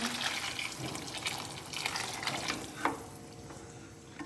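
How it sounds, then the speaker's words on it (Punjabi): Steady hiss of liquid in a hot pan of peas as hot water is poured in, with a soft splash and bubbling near the end as the sizzle dies down. "ਹੁਣ ਆਪਾਂ ਇਹਦੇ ਵਿੱਚ ਪਾਣੀ ਪਾ ਦਿੰਨੇ ਗਰਮ"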